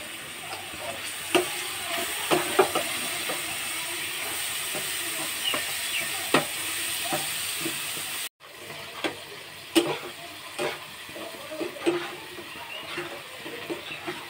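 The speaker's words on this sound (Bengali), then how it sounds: "মশলাটা ভালো করে ভেজে নেব।" Turmeric, chili and salt spice mix frying in a pan with mustard and green chili, a steady close sizzle with scattered crackles and stirring clicks, no talk.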